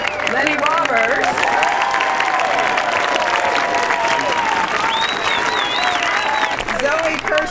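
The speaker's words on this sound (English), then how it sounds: "a round of applause for Lenny Roberts" An outdoor audience at the dedication of the Tom Lantos Tunnels at Devil's Slide applauds loudly and steadily, with whistles and cheering voices rising over the sustained clapping.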